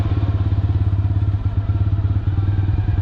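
A motorbike engine on a hillside village road runs steadily and loudly close by, with a throbbing low idle-like rumble and light clatter throughout, no clear pull-away.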